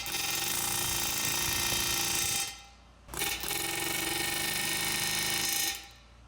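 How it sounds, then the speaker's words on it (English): Air hammer driving new valve guides into a CAT 3406B diesel cylinder head, heard as two long, loud, continuous hammering bursts with a short pause between them and a brief blip in the gap. "I'll be driving the new guides in with the air hammer again"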